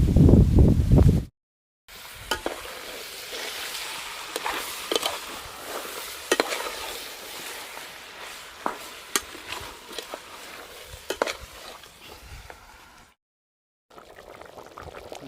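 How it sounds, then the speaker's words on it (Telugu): Chicken curry simmering in a pot over a wood-fired stove at a farm house, giving a steady soft bubbling and sizzle with occasional clinks and crackles, up close, briefly interrupted by a silent gap. "ఇదిగోనండి ఇలాగ కూర ఉడుకుతుంది"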